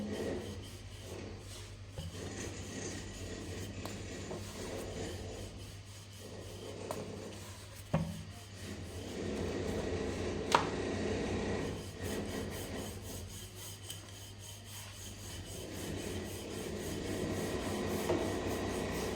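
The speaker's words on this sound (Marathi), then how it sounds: "थोडंसं जाड असं लाटून घ्यायचं." Thick puri dough for a shrikhand puri meal is rolled out with a rolling pin, making soft, repeated rubbing and scraping strokes close by, with a few light knocks against the board. Nobody speaks.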